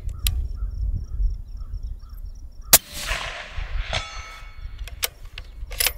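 Rifle shots with full-speed loads ring a steel target at 320 yards: a sharp report near the middle, a few fainter cracks and metallic pings after, over a low outdoor rumble.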